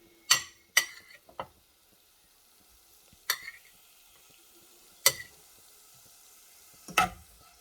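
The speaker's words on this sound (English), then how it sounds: "Okay, just stir it." Pad thai noodles being stirred in a frying pan, a few sharp scraping clacks of the utensil at irregular intervals over a faint, steady sizzle.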